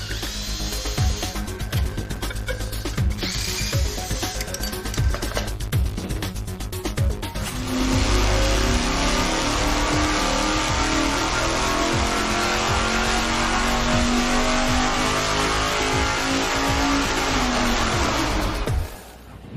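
A V8 engine sits on a dyno for a test run after a jet change. It idles roughly with tool noise at first, then roars into a loud, sustained rising rev for about ten seconds before cutting off sharply.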